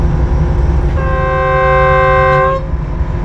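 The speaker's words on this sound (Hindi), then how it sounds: "25 मिनट मच रेलवे स्टेशन पे रुकने के बाद ट्रेन हमारी निकल रही है अपनी मंजिल की तरफ" Passenger train on the Bolan Pass line departing a railway station after a stop, a loud steady horn blast of about a second and a half rising over close rumbling engine and wheel noise.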